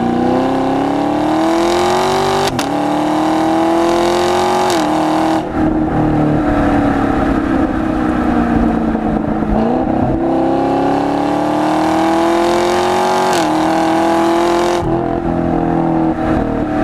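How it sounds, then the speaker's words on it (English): A Chevrolet Camaro with the factory NPP performance exhaust revs and accelerates hard, its loud, close engine note climbing repeatedly with brief drops at each shift. "I also optioned this one with the NPP performance exhaust from the factory,"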